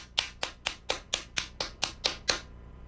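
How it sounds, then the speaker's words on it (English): A single man claps slowly and steadily, nine crisp, evenly spaced claps close by with nothing else around them. "That was just the sound of one man clapping."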